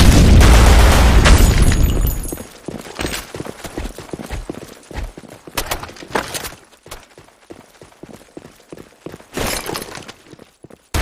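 Grenade blast in a shooter video game, a loud booming burst for the first two seconds, followed by sharp crackling debris and scattered clicking impacts that fade out.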